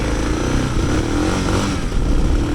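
Suzuki DR650 dual sport motorcycle engine running loud and close, a steady rumbling drone with a slight rise in pitch as it pulls, no voices.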